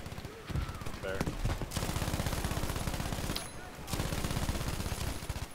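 Loud rapid bursts of automatic gunfire in a video game, a dense rattling stream broken by two short pauses.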